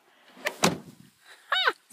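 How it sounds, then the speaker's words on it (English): A car door is opened in snowy weather, with a couple of sharp clunks and rattles of the latch and handle up close, then a brief squeaky scrape. "Open the door and then you go like this."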